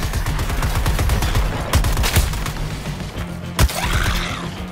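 Rapid bursts of gunfire in the video game Suicide Squad: Kill the Justice League, loud clustered shots with a sharp bang near the end over a low rumbling game soundtrack.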